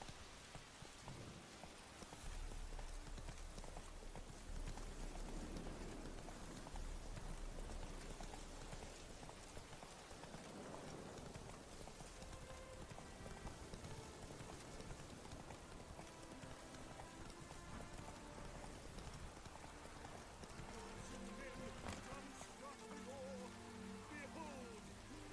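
Geralt's horse Roach trotting through rain in The Witcher 3: steady hoof clip-clops beneath a constant hiss of falling rain, quiet overall, with a brief spoken line.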